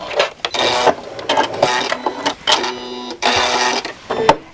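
A sewing machine stitches a fabric hem in quick mechanical bursts, stopping and restarting several times, close and fairly loud with no talk.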